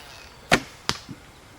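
An arrow loosed from a Mongolian horse bow with thumb-ring draw strikes a soft target: two sharp, loud impacts about a third of a second apart, followed by a fainter low thud, with no talk.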